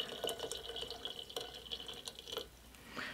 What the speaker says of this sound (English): we're also gonna get our hot water going on the hot water side